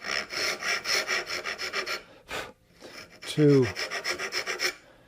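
A rasp files along a wooden edge to form a chamfer, giving a steady run of rhythmic scraping strokes, a brief pause, then more rasping. A short clunk sounds midway, and a single word is spoken.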